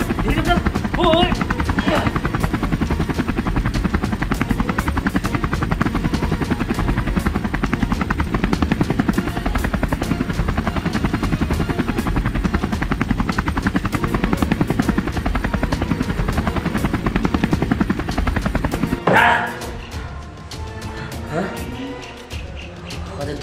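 A cartoon helicopter flies with a loud, steady rotor drone and buzz for most of the clip, ending abruptly near the close as a voice briefly speaks.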